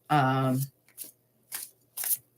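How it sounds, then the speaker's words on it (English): Tarot cards being shuffled during a live reading, heard as three short crisp riffling bursts spaced about half a second apart, close and fairly quiet, following a brief spoken phrase at the start. "But I will be shuffling"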